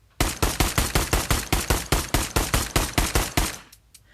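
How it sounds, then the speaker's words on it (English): Rapid pistol fire in the VR shooter Pavlov: about seventeen loud, sharp, evenly spaced shots in quick succession, ending abruptly, with no talk. "So I'm gonna just shoot it up here, or I'm gonna shoot the head"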